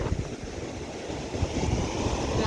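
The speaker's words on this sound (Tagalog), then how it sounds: "Lakas din po kasi ng hangin dito." Strong seaside wind buffeting the microphone over a low rumble of waves breaking on the shore, gusty and uneven throughout.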